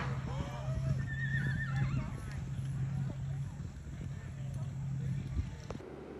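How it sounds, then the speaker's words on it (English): A draft horse being worked outdoors whinnies with rising and falling calls while hooves clop in an irregular rhythm, close and fairly loud over a low steady hum. "Here is Mary working her draft horse"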